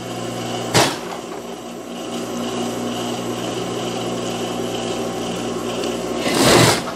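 A sewing machine stitching the side seam of a child's dress runs in a steady, even mechanical hum, briefly broken by a sharp knock at the start and a louder burst near the end, with no voices.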